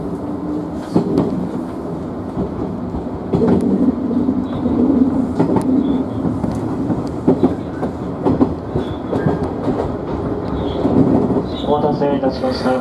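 An Osaka Higashi Line train departs a station, wheels clicking and rumbling on the rails at close range, with a spoken announcement and a faint chime over the steady running noise.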